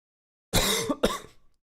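A single sharp double cough, close and loud, two quick bursts following a short silence and then fading out, with no talk around it.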